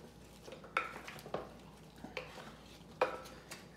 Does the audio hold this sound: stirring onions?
yes